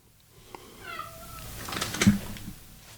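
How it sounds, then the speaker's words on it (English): A cat meows once, softly and briefly, in a stairwell, followed by faint thuds and scraping noises in a quiet indoor space. "Don't just sit in the stairwell and meow at me."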